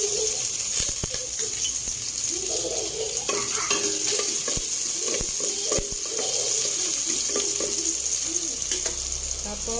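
Chopped garlic frying in hot oil in a home kitchen pan, a steady loud sizzle with scraping stirs and clatter throughout, up close and without talk.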